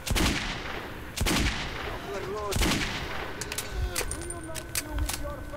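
Revolver gunfire in the video game Metro 2033: several sharp, loud shots spaced about a second apart, with other game sounds between them and a person talking over it.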